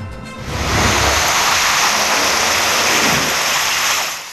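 Heavy rain pours down in a dense, loud, continuous hiss that swells in quickly and holds steady, with no voices.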